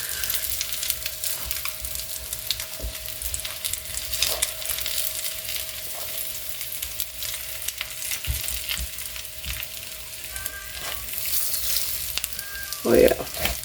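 Food sizzles and crackles steadily in a hot electric skillet, browning quickly, with an occasional clink or stir and a faint electrical hum underneath.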